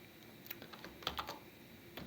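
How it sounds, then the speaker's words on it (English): Python code being typed on a computer keyboard: scattered, fairly quiet keystrokes with a short cluster of sharper clicks near the middle and a few more near the end, with no voices. "So let's type some code."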